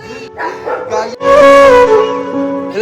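A dog vocalizes close by, a few short yelps followed by a longer, drawn-out howling bark.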